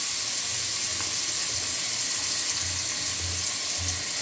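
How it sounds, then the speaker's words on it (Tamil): Onions frying in oil already used for frying anchovies, a steady dense sizzle running throughout with a low intermittent hum underneath. "அடுத்தது வெங்காயத்தை பொரித்து எடுத்துக்கிறோம்."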